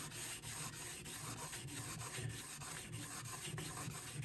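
A blade is worked on a lubricated sharpening stone, held perpendicular without tilting, giving a steady, close rhythmic rubbing of repeated strokes, about two per second, with no talk.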